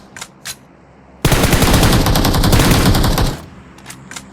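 Enemy gunfire in a shooting video game, a loud, rapid automatic burst lasting about two seconds, with a few faint thumps before and after.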